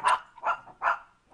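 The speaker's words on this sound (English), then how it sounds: "I have three dogs. I fed them bones and treats, so if they bark, I apologize." Three dogs bark in a quick series of about four sharp woofs, fairly close and clear, with no talking over them.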